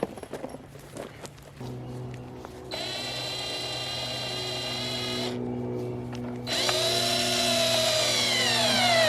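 A power drill drives screws into a wooden garden gate frame, whirring in long sustained runs that rise in pitch, close and loud, with brief pauses and clicks between runs.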